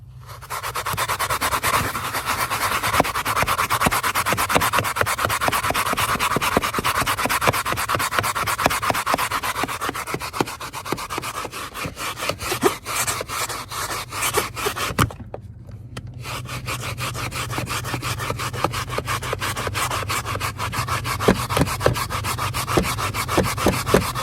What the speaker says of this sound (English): See if we can scrub it out.